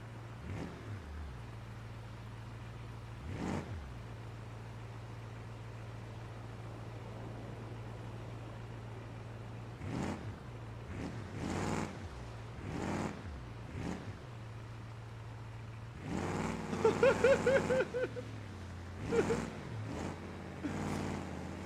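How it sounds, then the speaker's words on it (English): Car driving fast over rocky, rough ground along a storm-damaged escape route, with a low steady engine hum, repeated thumps and jolts over bumps, and a burst of louder rattling and revving near the end. "I'm going kind of fast and we might hit a rock too quick and then blow out our"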